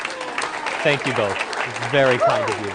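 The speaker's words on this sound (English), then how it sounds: "I think these both deserve a massive round of applause." Audience applause at a mentalist show, a steady bed of clapping running throughout while someone speaks clearly over it close to the microphone.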